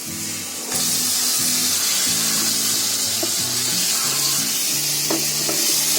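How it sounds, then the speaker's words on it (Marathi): Pieces of taro drop into hot, oily gravy in a pan, setting off a sudden loud sizzle that then holds as a steady close frying hiss with occasional pops, while a low hum runs underneath. "हे बघ आता आपल्याला याच्यामध्ये ही अरबी टाकायची."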